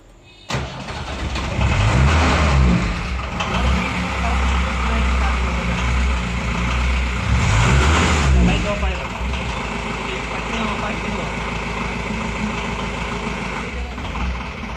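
An Ambassador car engine cranks and catches, then revs up and settles into a rough idle, loud and close, with a second rev surge midway before easing back to a steady running hum.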